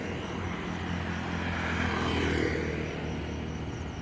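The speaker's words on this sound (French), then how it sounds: "On attend un avion." A fixed-wing airplane passes overhead on Koh Samui, a broad steady engine roar that swells slightly in the middle and holds loud throughout.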